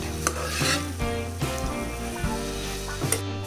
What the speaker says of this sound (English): now going to mix this and let it fry well for another 3 minutes